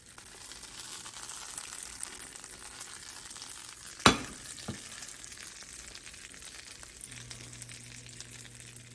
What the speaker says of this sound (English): But all that sizzling it's doing, that's just the water evaporating off.